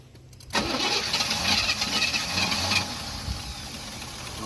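An '88 Chevy truck engine cranks and catches at about half a second, then runs loud and rough close by, settling slightly after a few seconds while still idling unevenly.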